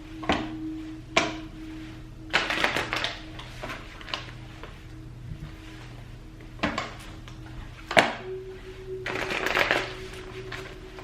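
Tarot cards being shuffled by hand, with repeated short riffling bursts spaced a second or two apart and a steady faint hum underneath, close and fairly quiet with no talking.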